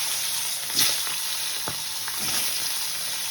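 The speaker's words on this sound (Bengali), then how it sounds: "বন্ধুরা তেলটা গরম হয়ে গেছে, এবারে মাছ ভাজাটা দেব। তো মাছটা ভাজতে দিচ্ছি।" A fish head fries in hot oil in a wok, giving a steady crackling sizzle with a few sharper spits and pops, close and continuous with no talk.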